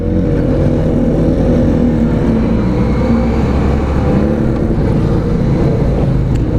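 A QJ Motor SRK400 motorcycle engine drones steadily and loudly throughout the ride, with a strong low rumble and a sustained wash of wind noise and no talk.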